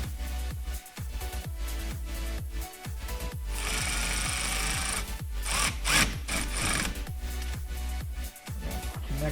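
Ratcheting clicks and metallic rubbing as a wrench tightens the battery hold-down on a 2014–2019 Chevrolet Silverado truck, with a steady run of short close strokes.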